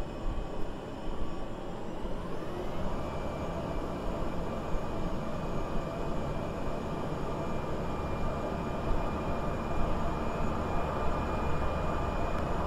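A propeller aircraft engine in reverse thrust in Microsoft Flight Simulator 2020 keeps up a steady, loud droning roar with a faint whine rising early on, continuous and without talk.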